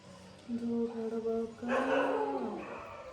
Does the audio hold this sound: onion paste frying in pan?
no